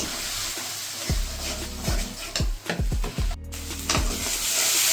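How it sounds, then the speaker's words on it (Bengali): Onion sizzling with ginger, green chilli and garlic paste in a pan for a fish curry, a continuous hiss broken by several sharp spatula scrapes and knocks, close up with no voices. "এবার এটা আমি কষাতে থাকবো।"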